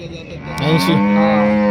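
A cow at the Chakan cattle market gives a single loud, close moo that rises and holds as a sustained low bellow.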